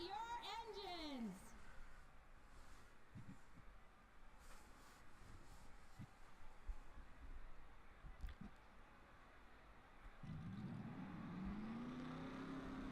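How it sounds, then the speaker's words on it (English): Race car engines in a racing video game fire up at a Las Vegas track, rising and falling in revving sweeps at the start and again near the end, with a quieter stretch between. "Drivers, start your engines!"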